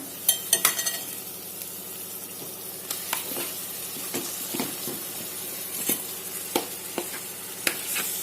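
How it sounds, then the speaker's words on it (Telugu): Marinated chicken fries in a pan with fenugreek leaves and coriander, giving off a steady close sizzle with occasional sharp clicks and utensil taps, and no voices. "ఇప్పుడు మనం దీంట్లోకి మనం నానబెట్టుకున్న చికెన్ వేసేద్దాం."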